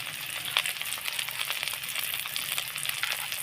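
Spice masala of turmeric, chili powder and salt frying in oil in a pan for an egg dish, giving a steady close hiss and crackle throughout with no talking.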